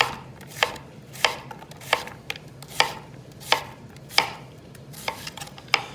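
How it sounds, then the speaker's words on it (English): A knife chops through an onion on a cutting board, eight crisp, evenly spaced strokes about two-thirds of a second apart, close and clear over a low steady hum. "I'll keep my knife sort of going towards the center, not going all the way through the back of the onion"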